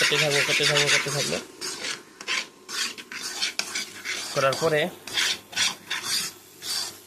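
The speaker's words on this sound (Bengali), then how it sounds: "নাড়াচাড়া করতে থাকবো" Pasta being stirred in a pan makes repeated rough scraping and rubbing strokes close by, while a voice speaks briefly at the start and again midway.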